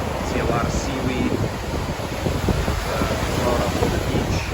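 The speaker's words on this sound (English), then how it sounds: "Say the wind right now is about maybe 23 miles an hour, gusting up to around 30 miles an hour." Strong tropical storm wind, about 23 mph gusting to 30, roars across a Hollywood, Florida beach, a loud, continuous buffeting rush that hammers the microphone with no break.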